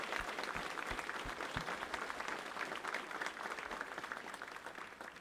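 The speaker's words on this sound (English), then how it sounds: "please join me in giving them a round of applause." Sustained applause from a large crowd at a graduation ceremony, steady and dense clapping that continues throughout without a break.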